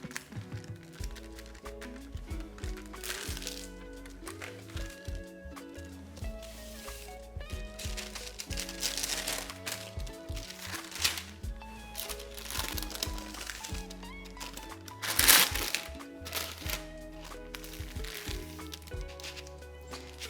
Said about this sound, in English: I am going to fold my parchment